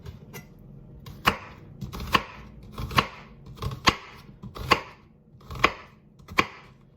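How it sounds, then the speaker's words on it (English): A knife cuts down through an onion along its grooves on a board for pasta with beans and greens, seven sharp evenly spaced chops, close and crisp, with no talking. "Now we're going to cut along the grooves of the onion."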